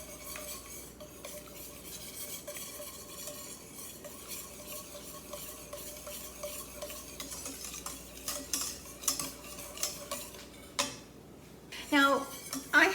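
Cinnamon roll mixture whisked in a bowl, a quick steady rhythmic clatter of metal against the bowl that grows louder and more vigorous toward the end, with a voice talking faintly underneath.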